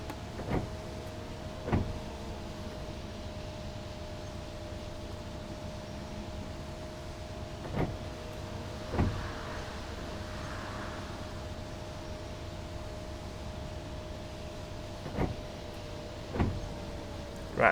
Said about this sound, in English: God, listen to that gearbox.